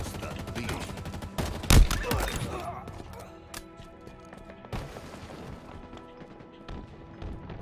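Bursts of plasma pistol fire and other gunfire in a Halo Infinite arena match, with sharp close shots and a dense flurry near the start, then scattered cracks over a busy game mix.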